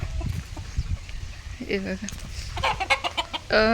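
Village chickens cluck close by in short, uneven bursts in the evening, the calls growing busier and louder toward the end.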